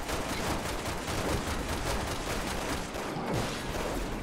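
Gunshots in Resident Evil 6, a dense continuous barrage of overlapping gunfire and crackling impacts, loud and steady throughout with no voices.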